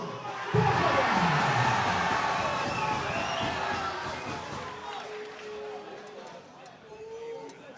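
A crowd at an amateur fight event cheers and roars loudly as a fighter is introduced in the red corner, the noise peaking early then fading while a voice talks over it.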